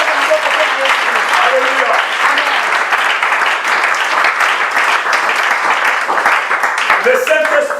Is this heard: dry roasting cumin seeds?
no